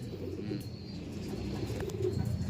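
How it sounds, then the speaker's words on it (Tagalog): Pigeons coo continuously in low, throaty murmurs, several birds overlapping nearby with a soft steady texture and no talking. "Yan yung mga ibon natin"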